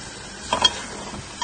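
Potatoes frying with spices for khatta aloo are stirred in a pan, giving one brief scrape and a soft sizzle.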